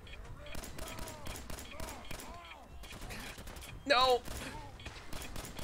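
Gunfire in the Fallout 4 video game crackles in rapid, irregular bursts of shots throughout, and a voice briefly shouts partway through.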